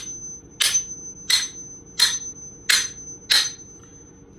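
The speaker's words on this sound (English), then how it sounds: "Let me grab my Milwaukee hammer and see if I can't tap it off." A hammer lands five sharp metallic taps on a stuck socket at an even, deliberate pace, each ringing briefly, close by and with no talking.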